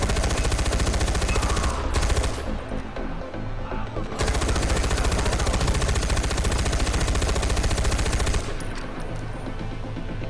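A machine gun nest in the video game Far Cry 4 fires long, loud, continuous bursts of rapid gunfire, broken by a couple of short pauses.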